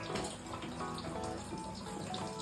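Water runs steadily from a tap in a home kitchen while a pizza is being made, a continuous splashing flow at close range with no talk over it.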